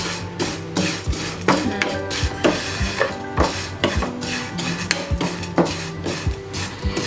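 Vermicelli roasting in ghee in a pan, stirred with a utensil that gives repeated clinking and scraping knocks against the metal over steady frying crackle for several seconds.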